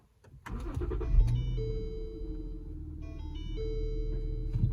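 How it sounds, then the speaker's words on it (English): Lincoln MKS engine cranks and catches, then settles into a low idle with tonal electronic chimes ringing over it, heard close and alone. "So now if we start the car"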